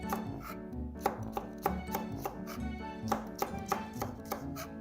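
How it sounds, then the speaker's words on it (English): A knife chops peppers on a cutting board for a savory pancake dish, a run of crisp, fairly quick knocks in an uneven rhythm, close and clear with no talking. "we're gonna chop up these peppers"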